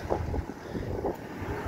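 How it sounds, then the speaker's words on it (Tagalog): Strong wind buffets the microphone in a steady low roar, with gusty rumbling throughout and no voices. "Ang lakas ng hangin, Box, oh."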